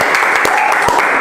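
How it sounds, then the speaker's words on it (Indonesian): Brief, loud burst of audience clapping, dense and continuous over roughly a second, with a faint tonal hum running underneath. "Wow, tepuk tangan"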